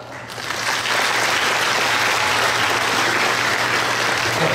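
An audience at a 2019 ceremony marking 90 years of Japanese immigration in Tomé-Açu, in the Brazilian Amazon, welcomes a singer with applause that swells within the first second into dense, sustained clapping.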